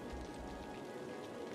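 Rain falls steadily in a city-building game, a soft continuous patter and hiss that stays quiet and even through the short moment.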